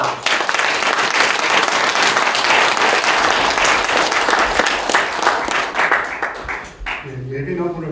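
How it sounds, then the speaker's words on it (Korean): A large audience at a Korean lecture hall applauds loudly and steadily for several seconds, the clapping thinning out near the end as a voice begins speaking. "감사와 격려를 담아서 크게 한번 박수"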